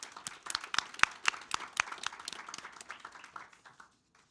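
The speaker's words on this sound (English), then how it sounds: "how about one more round of applause for all of our honorees" Audience applause for honorees at a Maryland State Board of Education meeting, sharp distinct claps near at first, thinning and fading out toward the end before brief silence.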